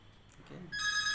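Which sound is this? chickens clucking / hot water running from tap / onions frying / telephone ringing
telephone ringing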